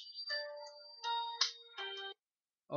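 A mobile phone ringtone going off during a high school chemistry lesson, a bright electronic melody of short tonal phrases that stops abruptly, followed by the start of a sound at the very end.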